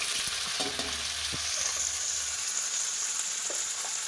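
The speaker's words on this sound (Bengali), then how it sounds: "তেল গরম হয়ে গেছে আগে থেকে আগে থেকে বানিয়ে রাখা সবজিগুলো এর উপর দিয়ে দিলাম" Boiled vegetables drop into hot refined oil and fry with a steady, loud sizzle throughout, broken by a few spoon taps and stirring scrapes against the pan.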